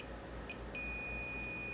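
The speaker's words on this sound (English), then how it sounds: "we would get a beep" Continuity tester emitting a steady electronic beep while its probes bridge a salt-corroded memory card contact, starting with two brief chirps and then holding as a sustained clear tone over a faint hum.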